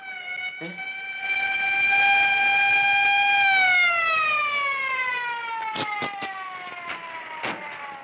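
A loud police siren wails in a long steady tone that bends downward, with sharp clatters and knocks breaking in near the end, in a scene from an Egyptian comedy film.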